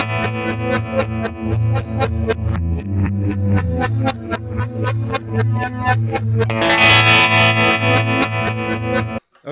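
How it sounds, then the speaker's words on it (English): An electric guitar overdub being recorded over a loop on a HeadRush looper pedal: loud, distorted, chorus-tinged picked notes in a steady rhythm, building into a brighter strummed passage near the end, with no talking. "Let's hit the overdub button, wait for it to recycle, and then record our track."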